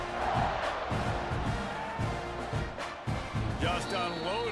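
Stadium crowd roars and cheers in the College Football 26 video game, a dense, loud wall of cheering that surges and dips beneath continuous commentary.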